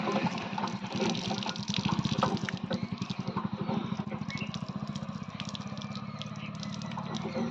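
Water runs steadily from a tap at a sink during face washing, a close, rushing stream with rhythmic splashing pulses throughout.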